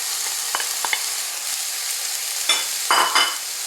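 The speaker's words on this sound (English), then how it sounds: "the onion is more of a saute, and I guess the spinach you would say is being wilted" Chopped onions and spinach sauté in a pan, giving a steady close sizzle, with a few light scrapes and stirring clatters on top and a busier patch of stirring toward the end.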